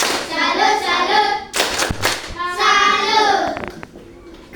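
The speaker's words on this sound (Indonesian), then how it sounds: "mari kita beri tepuk salut kepada teman-teman yang sudah menjelaskan" Classroom group applause, the 'tepuk salut' cheer, with a burst of clapping and children's voices chanting together in rhythm, close and lively, with a short pause midway before a second round.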